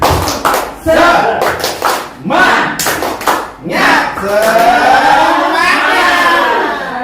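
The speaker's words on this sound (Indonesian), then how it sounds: "Tepuk semangat." A group claps in unison to a quick rhythmic pattern, loud and close, with cheers and voices mixed in between the bursts.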